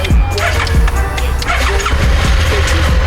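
A Japanese-auction motorcycle engine runs loud and close, with a steady low rumble and periodic throttle pulses.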